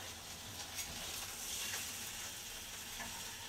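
Food sizzling in a frying pan right after being flipped, a soft continuous crackle and hiss at low volume, steady with no talking.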